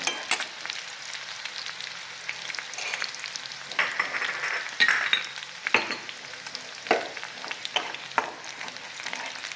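Large pieces of roughly chopped garlic frying in a pan over raised heat, giving a continuous crackling sizzle with irregular spatula scrapes and taps, close and moderately loud.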